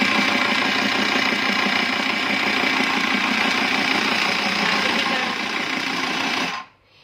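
A portable sewing machine runs steadily once switched on, a loud continuous motor whir with a rapid mechanical buzz that holds evenly for several seconds and then cuts off abruptly.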